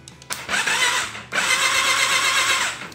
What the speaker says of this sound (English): We got it fast turning over there.